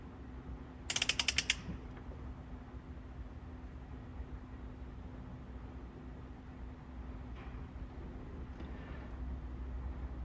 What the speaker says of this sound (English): I can set my torque wrench to 55 foot-pounds